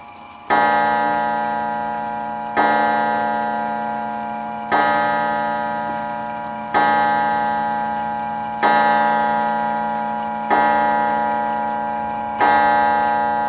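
A 1930s 8-day striking mantel clock in an oak case by Enfield strikes seven times for seven o'clock. Each ringing, resonant chime comes about two seconds apart and decays slowly, close and clear, with no talking.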